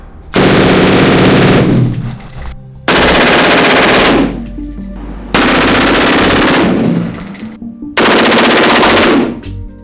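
A SIG MCX rifle on its high gas setting, unsuppressed, fires four long full-auto bursts, each a loud, rapid stream of shots with short gaps of quiet between them.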